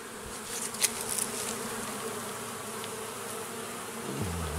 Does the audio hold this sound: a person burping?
no